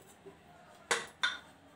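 A metal lid is set onto a pressure-cooker container holding wrapped wheat dough, giving two quick, close, light clinks a fraction of a second apart after a soft tap.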